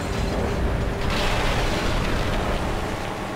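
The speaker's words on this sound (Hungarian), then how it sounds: "így kell kinézni egy robbanás effektnek és egy tűzeffektnek egy játékba szerintem" Explosion and fire effects from the Mad Max video game make a dense, continuous roaring rumble that swells slightly partway through and stays loud throughout.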